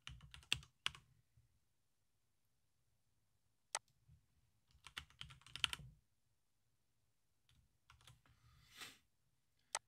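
Someone types on a computer keyboard to log in, giving quiet separate bursts of close key clicks with pauses between them in an otherwise silent room.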